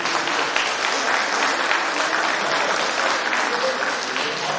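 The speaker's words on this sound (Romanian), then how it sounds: "Desigur, mulțumesc pentru aplauze." A dense, loud wash of audience applause fills a cultural hall at a celebration for couples married fifty years, steady and continuous throughout with no gaps.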